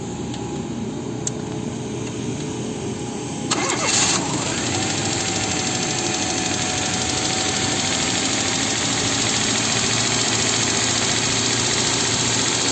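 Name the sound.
carburetted LPG car engine starting and idling high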